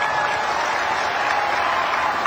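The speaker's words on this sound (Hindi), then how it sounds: "हो जाए ताली आज आपके नाम पर।" A crowd claps steadily at a political rally in Assam, a dense, even wash of applause with no pauses.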